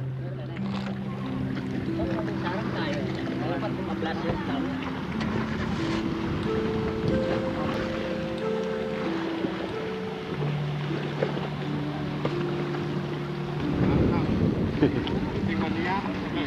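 A boat ride on the lake at Pantai Ejot, Jatigede, with a low motor drone and wind buffeting the microphone. Music and voices play over it, and the drone swells near the end.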